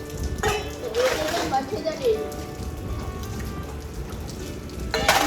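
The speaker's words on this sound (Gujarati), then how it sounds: "વરસાદ ચાલુ થઈ ગયો છે બહાર, તો તમને બતાવી દઈએ" Rain falls outside a house at night as a steady hiss with patter on surfaces, while a voice talks over it at close range.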